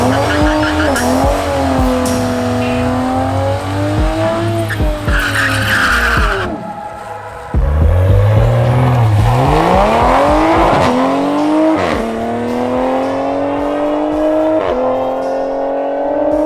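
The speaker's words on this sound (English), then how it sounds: "I'm just gonna run it down the strip real quick and see what it runs." A drag racing car's engine roars and revs hard with squealing tires as it launches down the strip, cuts out briefly, then launches again with a rising, loud howl.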